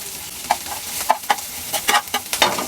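Chopped green chilies stirred in a pan over a soft frying sizzle, with a quick series of close scrapes and clinks from the utensil at irregular short intervals.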